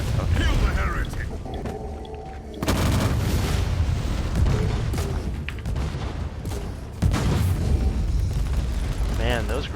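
Grenade launcher explosions in the Warhammer 40k Inquisitor Martyr game, played as a Heavy Gunner: heavy booms and sustained rumbling blasts in several loud bursts, with someone talking over much of the noise.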